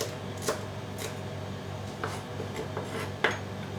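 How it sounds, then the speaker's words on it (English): A knife chops celery leaves and stems into small pieces on a cutting board, giving a few sharp, separate knocks spread over a steady kitchen background hum. "I'll use a few of the leaves and the stems, and I'll chop them in little pieces first"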